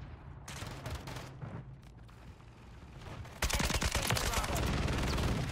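Shotgun blasts and other gunfire in Modern Warfare 3 multiplayer, a run of sharp shots early on, then a loud sustained barrage of rapid fire filling the end of the moment.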